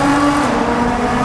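A tuned 750 hp Nissan GT-R roars through a tunnel, its exhaust a loud, steady, close drone with a strong low tone that holds throughout.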